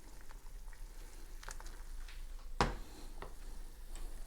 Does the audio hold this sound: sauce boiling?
yes